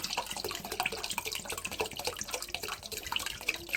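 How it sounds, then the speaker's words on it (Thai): Vinegar poured into a container while making pickled grapes, a steady splashing liquid stream with small drips running continuously and fairly close, with no talking. "ใส่น้ำส้มสายชูลงไป"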